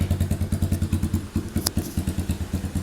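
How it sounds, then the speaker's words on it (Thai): Close-up exhaust note of a 2017 GPX Legend 200 tracker-style motorcycle with a loud aftermarket pipe, a rapid, uneven popping idle thump with a brief metallic click midway. "ท่อคันนี้ลั่นอยู่นะครับผม"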